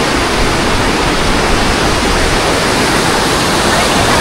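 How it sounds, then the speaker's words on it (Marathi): A river forming the border between India and Nepal, seen from a bridge in Uttarakhand, rushes with a loud, continuous broadband roar of flowing water, steady and close throughout. "ही नदी जी इंडिया आणि नेपाळला वेगळं ठेवते, तिकडून वाहत येते."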